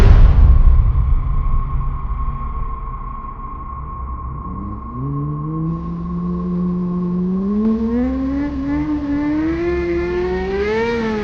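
A cartoon motorbike's engine hums and then rises in a climbing, revving whine as it arrives, a loud synthetic tone sweeping upward over a steady low rumble.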